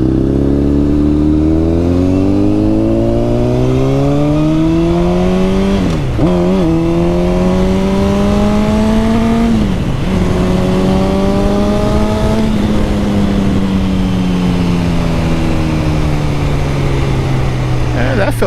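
A Honda CBR1000 Repsol sport motorcycle accelerates hard while being ridden, its engine pitch climbing through each gear with two sharp drops at upshifts. The sound is loud, close and steady, with wind noise underneath.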